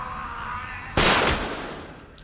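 Single loud gunshot from a shootout in the 2009 horror film The Human Centipede, a sharp sudden blast after a quiet ambient stretch, then a decaying echo.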